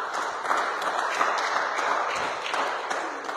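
A church congregation applauding during a worship service, a steady broad wash of many hands clapping at moderate loudness throughout with no distinct voices.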